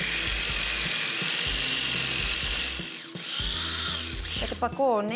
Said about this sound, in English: We'll get this into the kitchen whiz.